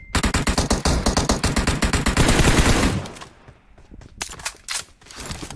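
Rapid automatic gunfire from a video game battle rattles loud and close in dense bursts for about three seconds, then gives way to scattered sharper shots and quieter game noise.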